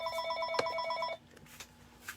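A telephone rings indoors at a papercraft desk, a steady electronic trill of repeated pulses for about a second before cutting off, followed by quieter room noise.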